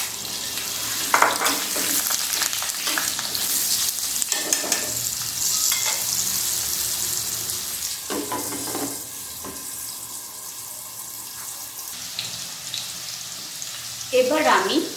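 Potatoes fry in oil with dried chilli, bay leaf and cumin for a jackfruit curry, making a loud, steady sizzle with intermittent stirring scrapes that fades slightly toward the end.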